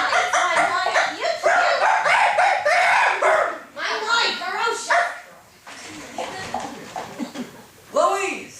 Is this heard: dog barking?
yes